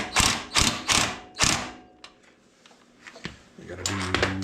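An impact wrench drives suspension bolts home on a modified truck, giving four loud close rattling bursts, then quieter clanks and metallic knocks as the work continues, with people talking nearby.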